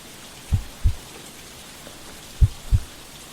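Steady rain falls with a soft, even hiss, broken by four dull low thumps in two pairs. No voices are heard.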